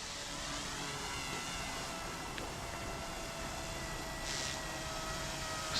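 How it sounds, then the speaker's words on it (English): An Eachine E120S RC helicopter flies outdoors, its rotor giving a steady, faint whirring hum that holds evenly throughout with no speech. "Sounds of the rotor is really cool."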